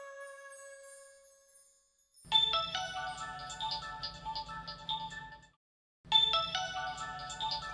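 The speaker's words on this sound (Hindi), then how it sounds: "ये रात को पता नहीं किसका फोन है।" A mobile phone ringtone plays a bright, tinkling melodic tune at night in a home, after a soft fading tone; the ringing comes in two loud bursts separated by a short silence.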